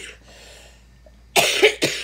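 A person coughs twice in quick succession, close and loud, after a stretch of near quiet.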